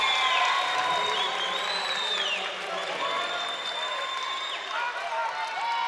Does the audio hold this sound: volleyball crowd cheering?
yes